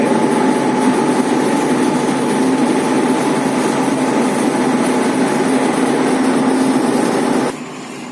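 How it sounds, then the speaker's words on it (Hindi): A disc sanding machine runs steadily on laminate furniture, a loud continuous whine with a droning hum that holds for about seven seconds before cutting out and leaving a quieter tail. "उससे आप उसमें सैंड पेपर लगा के आप सैंडिंग कर लीजिए। हम लोग डिस्क ज़्यादा यूज़ करते हैं"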